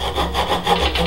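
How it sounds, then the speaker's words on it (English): A hand saw cuts a kerf line into wood while hand-carving a spiral: steady back-and-forth rasping strokes, close and fairly loud, with no talking. "so I'm just going to do another kerf line here."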